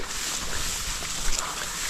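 A small engine-driven water pump runs outdoors while irrigating a field, producing a steady, dense droning hum with broadband noise and no clear pauses, heard close and fairly loud throughout.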